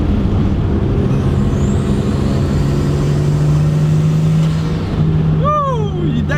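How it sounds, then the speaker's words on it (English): A 1989 Nissan Skyline R32 GTS-T turbo idles loudly close by, its engine drone steady before a blow-off valve release near the end, followed by a quick chirping whoosh. "let's listen to this blow-off valve."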